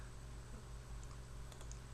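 Soft, quick keystrokes tap on a computer keyboard in a quiet room, a short burst of clicks with a low steady hum underneath.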